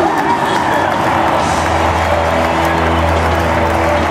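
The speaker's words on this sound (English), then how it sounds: "Yet another big ovation for the native of Caracas, Venezuela" Baseball crowd ovation at a Blue Jays versus Twins game for Omar Vizquel in his final game, a broad sustained roar of clapping and cheering with steady low hum beneath.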